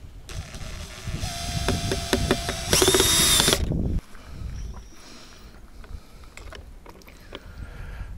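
Power drill driving wood screws into a solar-powered camera bird feeder mount, a few close whirring bursts with a louder high-pitched spin near the middle, then quieter handling noises.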